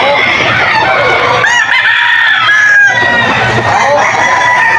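Rooster crowing and clucking at a poultry market in Bocaue, Bulacan, on a rainy day: a young Golden Boy stag gives loud, close, drawn-out crows over a steady din of other fowl, and voices talk throughout.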